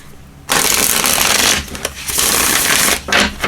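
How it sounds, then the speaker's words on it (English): A deck of playing cards is riffle-shuffled twice up close, each long dense fluttering burst ending in a brief pause, with no voices. "Let me just give these a couple shuffles."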